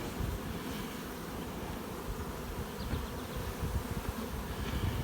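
Honey bees buzz densely and steadily around an open hive during honey harvest, a continuous close swarm drone with no talk.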